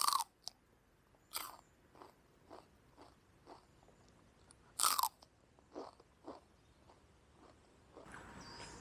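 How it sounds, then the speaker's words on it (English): Fresh garden-grown celery gives sharp crisp snaps on the first bites, then a steady series of quieter chewing crunches close to the mic, with another loud bite midway. "You can hear the crunch on this."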